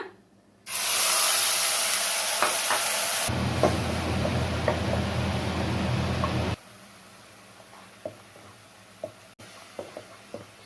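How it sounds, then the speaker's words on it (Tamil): Ground onion paste sautéing in a pan for hotel-style chole masala, a North Indian chickpea curry. A loud, steady sizzling hiss runs for about six seconds, then drops to a quieter simmer with scattered small stirring clicks. "வெங்காயம் பார்த்தீங்கன்னா நல்லா வதக்கணும்."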